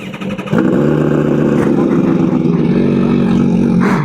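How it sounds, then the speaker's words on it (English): MV Agusta Brutale RR naked motorcycle engine that kicks in after half a second into a loud, steady, close drone that holds to the end. "We are going to be riding the MV Agusta Brutale RR today."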